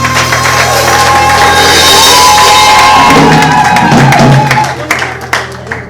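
A wedding congregation at a religious ceremony cheers and acclaims together, a loud, sustained wash of crowd voices and shouts that rises, holds, then breaks into scattered claps and calls as it fades.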